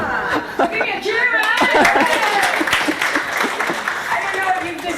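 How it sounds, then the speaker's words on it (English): A lively crowd cheers and applauds together at a networking event, with clapping, whoops and laughter blending into a steady, fairly loud wash for several seconds. "Give me a cheer"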